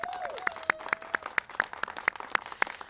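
A sparse group at a mayoral bill-signing claps for city directors and colleagues, a dozen or so distinct, fairly sharp claps in a loose rhythm over quiet room tone, with a brief tonal squeal near the start.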